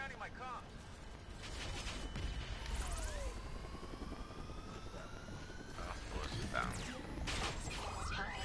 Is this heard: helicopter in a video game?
yes